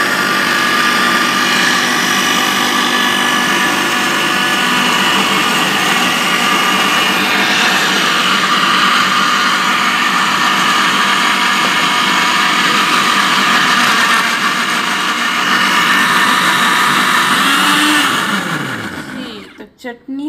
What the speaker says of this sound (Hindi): अब हम ग्राइंडर चलाएंगे।